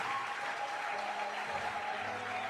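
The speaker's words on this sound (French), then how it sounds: "Des acclamations royales pour le Seigneur." A church congregation applauds and cheers for the Lord in a steady, dense wash of clapping that holds throughout, moderately distant.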